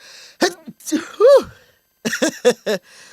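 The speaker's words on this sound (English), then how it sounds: "Ooh, gotta sneeze, y'all." A close, loud sneeze with a wind-up inhale, surrounded by short voiced exclamations and sniffs.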